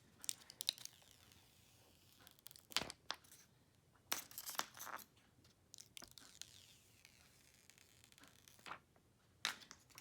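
Plastic protective film ripped off a silver iPhone X box, heard as a run of sharp crinkling tears and peeling snaps, close and fairly quiet, in separate bursts with short pauses between.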